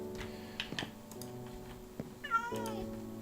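A cat meows in the Minecraft video game, a short rising call near the end heard over steady game music and light ticking sounds.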